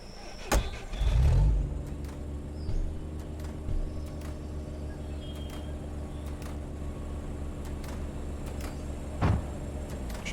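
A pickup truck in Factory Outlet Simulator idles with a steady low engine drone, opening with a brief louder rev and a clunk, then holding an even hum, with a faint thump near the end.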